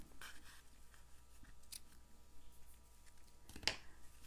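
Scissors trim the ends of a paper card in a quiet room, with a few faint snips and one sharper, louder cut near the end, close to the microphone and without talk.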